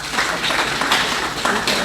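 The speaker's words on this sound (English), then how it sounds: "Round of applause." Audience at a tribute and magazine launch event applauds, a continuous wash of clapping at moderate level throughout the short stretch.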